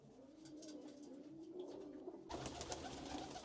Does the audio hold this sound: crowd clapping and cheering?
no